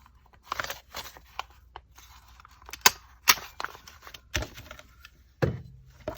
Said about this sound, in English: we're going to staple it